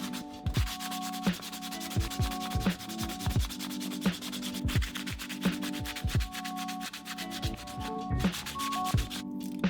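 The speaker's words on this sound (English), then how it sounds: "I'll continue by hand sanding the handle, moving up in grits from 150 to 800." Hand sanding a forged knife handle with sandpaper, working through grits from 150 to 800: steady, close rhythmic rubbing strokes repeating evenly throughout, with no talking.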